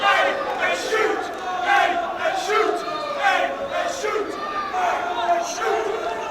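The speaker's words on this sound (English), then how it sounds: "You can hear the calls of the crowd here from Festus." Boxing crowd at a professional fight night yelling and calling out encouragement, loud overlapping shouts and chants rising and falling continuously, with voices cutting through the noisy arena.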